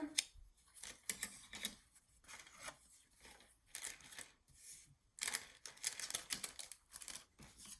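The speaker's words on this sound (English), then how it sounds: "I'm just going to cut just eyeball it right now, a little scrap paper." Scissors snip through scrap paper for a junk journal mini album, a series of crisp irregular cuts and paper rustles close up, quiet and uneven in rhythm.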